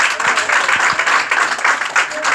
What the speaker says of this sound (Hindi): आप लोग ताली से स्वागत कर